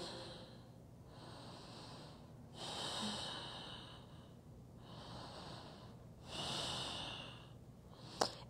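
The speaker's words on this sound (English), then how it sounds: "Few more deep breaths here." Slow, deep breaths during a yoga twist pose, with alternating long inhales and exhales at an even rhythm, close and fairly soft, ending with a brief sharp click.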